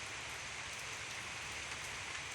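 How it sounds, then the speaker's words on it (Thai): Steady outdoor rain falling on surfaces where cattle graze, a soft, even hiss with constant texture throughout, heard alone with no voices. "วันนี้ก็ฝนก็ตก"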